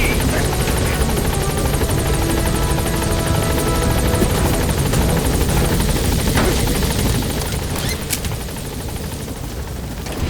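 Military helicopter arriving at a landing zone in the video game Metal Gear Solid V: The Phantom Pain, its loud, close rotor thrum filling the whole stretch and easing off slightly near the end.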